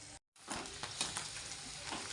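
Bobby fryums deep fry in hot oil, a close, bubbling sizzle that starts after a brief gap and continues steadily, with no voices.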